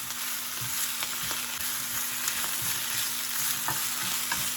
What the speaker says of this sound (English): All right, those greens are cooking.